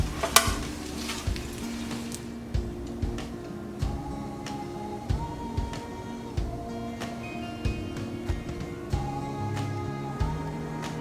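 A macaroni wrap shallow fries in a pan with a low crackling sizzle, punctuated by repeated soft clicks and knocks of a utensil at a fairly steady pace, close by, with no speech.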